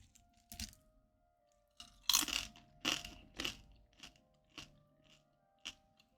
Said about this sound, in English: Nothing like listening to someone eat stale nachos.